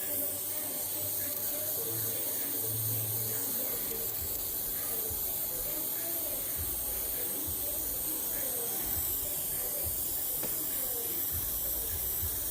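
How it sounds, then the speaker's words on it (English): An air compressor-fed spray gun at about 4 psi hisses continuously while painting a Foxbody quarter glass, a steady airy spray with faint low rumbles underneath and no distinct talk. "I've got my air compressor turned down to like 4 psi"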